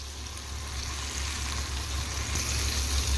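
Chicken popcorn pieces fry in hot oil over a medium flame, giving a soft, steady, even hiss that carries on without a break.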